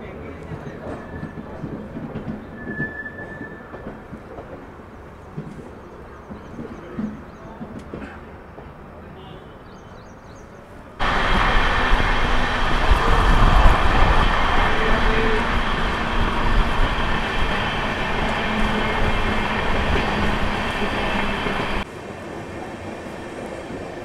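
Bengaluru–Ernakulam Intercity Express with new LHB coaches rumbles along the track, a steady rolling roar that swells sharply louder midway as the train merges onto another line, then eases slightly near the end.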